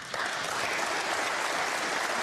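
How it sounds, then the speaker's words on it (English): Steady, sustained audience applause at a professional snooker final, dense clapping filling the whole stretch after a brief quieter start, with no voices over it. "Applause for frame ball."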